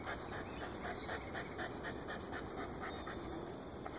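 A female dog pants steadily in the heat, quick rhythmic breaths heard close against a constant background hiss, faint and continuous throughout.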